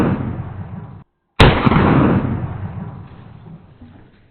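Shotgun blasts fired at watermelons outdoors: a loud broadband roar cut by a brief silence, then a sharp second blast with a long decaying echo.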